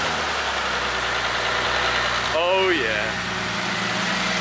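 A Bentley Continental GT engine idles steadily after a home service, a low even rumble running throughout while a person briefly exclaims over it.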